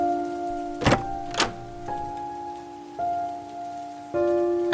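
Steady cartoon rain falls on a surface throughout, broken by two sharp knocks early on and a few shifting tonal hums and clunks, with no voices.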